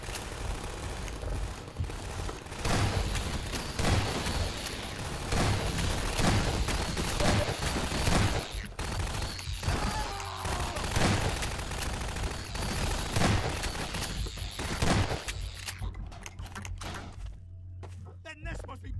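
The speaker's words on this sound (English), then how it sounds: "it's really satisfying to blast them with the shotgun" Repeated heavy shotgun blasts from a Half-Life 2: Episode Two firefight, loud, close and irregular across the stretch, mixed with game action and dropping to near quiet at the end.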